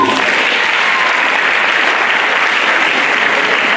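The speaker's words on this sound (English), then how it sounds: "Another round of applause," A large audience at an entrepreneurship event claps loudly and densely, a continuous wash of close, evenly sustained applause without letup.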